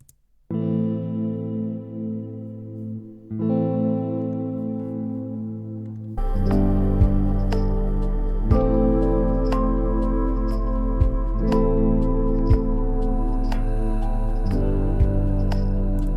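Sustained guitar chords with reverb and EQ ring out with a washy, reverberant tone, first alone, then joined by a steady beat and other instruments in a looping lofi pattern following piano chords.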